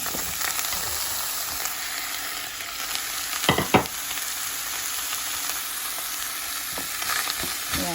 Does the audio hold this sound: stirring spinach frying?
yes